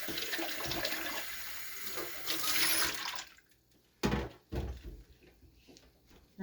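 Running tap water rinsing something in a kitchen, a loud rushing flow for about three seconds that then cuts off, followed by a few close knocks and clunks.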